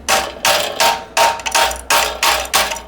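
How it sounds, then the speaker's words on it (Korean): Sharp metallic hammer blows tightening the left bottom bracket cup on a bicycle during a CYC X1 Stealth GEN3 e-bike kit install, seven evenly spaced ringing strikes, close and loud. "손으로 돌아갈 때까지 꽉 돌린 다음에 망치로 두들겨서"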